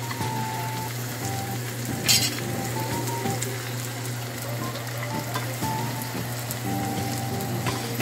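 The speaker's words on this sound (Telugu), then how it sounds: "టమాటీ లేకుండానే బాగా ఫ్రై చేసుకోవాలి" An egg masala curry base without tomatoes sizzles steadily in a pan, a continuous close frying hiss with a few brief louder crackles and no voices.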